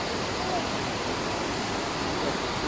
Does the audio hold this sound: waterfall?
yes